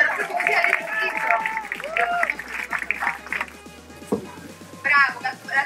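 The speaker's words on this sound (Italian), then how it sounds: "C'è un applauso a Gatto Baleno" Scattered clapping from a small crowd at the opening ribbon cutting of the Wild Rodeo ride at MagicLand, steady and moderately near, with children and adults talking and calling out over it.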